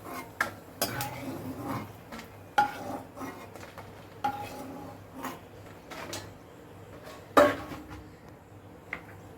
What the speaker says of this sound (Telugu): ముందుగా ఎండుమిర్చి వేసుకుందాం.